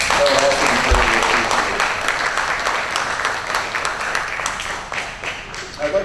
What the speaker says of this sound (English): So we give them a round of applause